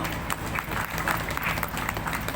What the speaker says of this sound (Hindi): और एक जोरदार ताली बजाओ इसके लिए।